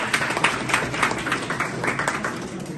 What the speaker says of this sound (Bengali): তার জন্য তাদের জন্য একটা জোরালো করতালি দেন।